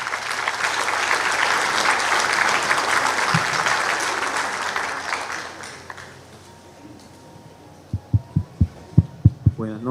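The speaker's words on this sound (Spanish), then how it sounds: "le pedimos un aplauso" An indoor audience at an engineering forum on seismic risk in buildings applauds steadily for about six seconds, a dense crowd clatter that then fades, followed by a few deep thumps near the end.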